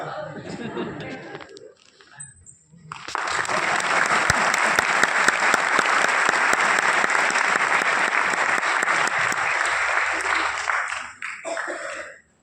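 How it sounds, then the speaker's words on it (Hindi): An audience bursts into sustained, loud applause that runs for about eight seconds before tapering off, with murmured voices before and after the clapping. "अच्छा, आप ताली क्यों बजा रहे थे इसके लिए?"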